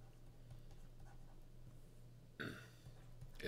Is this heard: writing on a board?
yes